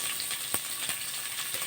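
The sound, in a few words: sliced onions frying in a pan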